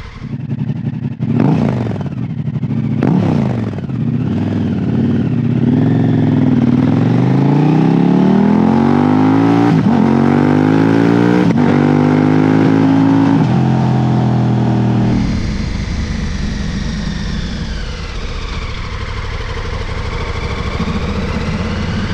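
A loud motorcycle engine with a Dr. Jekill & Mr. Hyde exhaust revs up and down repeatedly with a rough, throaty note, then settles into a steady high drone.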